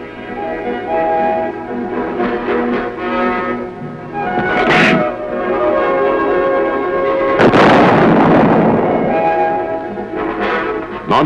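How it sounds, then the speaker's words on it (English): Self-propelled howitzer firing a shell during armored vehicle evaluation at Aberdeen: a short blast, then a louder, longer roaring burst, heard over steady background music. "the hydraulic loading system rams a shell into the breech. A charge is added and the weapon is ready to fire"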